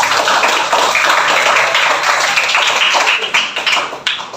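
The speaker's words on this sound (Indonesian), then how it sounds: "Oke, tepuk tangan semuanya." A school class claps hands together in a dense, loud burst of applause that continues steadily, then thins into scattered claps at the end.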